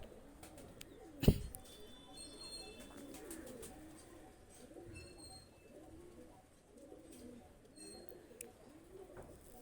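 A male Prince Bagan high-flyer pigeon coos softly and repeatedly in a quiet setting, with a single sharp knock near the start.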